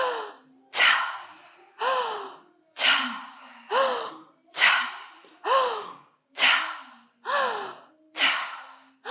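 Deep, open-mouthed breathwork inhales and sighing exhales repeat in a steady rhythm, roughly one breath cycle a second, loud and close with nothing else behind them.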